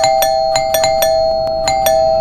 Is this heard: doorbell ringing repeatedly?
yes